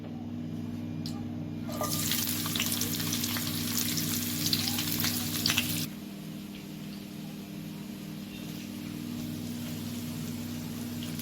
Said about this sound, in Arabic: نجيب كده طاسه ونحط عليها معلقه سمنه كبيره كده، وننزل بالبصل.